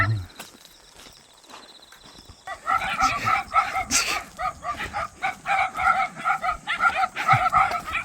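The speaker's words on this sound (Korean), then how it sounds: "아이고 개떼다 개떼" A pack of abandoned dogs barking in rapid, overlapping bursts that start after a quieter moment and continue loud and close, with footsteps and movement around them.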